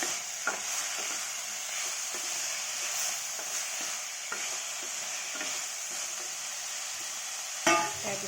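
Cubed potato and two green chillies fry in hot oil for an Assamese banana stem dal, a steady close sizzle with light stirring scrapes and a sharper clatter near the end.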